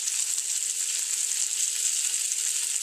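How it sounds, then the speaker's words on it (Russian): Trout fillet frying in a pan makes a soft, continuous sizzle that crackles evenly and stays quiet and close throughout. "И поэтому прожаривается со всех сторон до готовности,"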